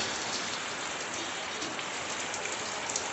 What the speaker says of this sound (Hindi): पूरे दिन आज ऐसा ही रहा है बारिश ही।